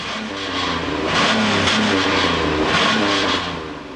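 Loud modified street-racing car exhaust revving hard, a rough engine roar that climbs and holds at full throttle before easing off near the end, with no voices.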